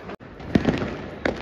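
Diwali fireworks heard from a rooftop terrace, a couple of muffled bangs and crackles rolling over a steady, dense background of festive noise.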